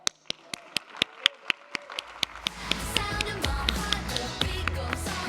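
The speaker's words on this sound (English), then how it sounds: "I need a resounding round of applause for my friend Ben." At a tech summit AI/ML panel in Ohio, one person claps slowly and sharply in a regular beat. A full audience then joins in, and the applause swells into dense, sustained clapping.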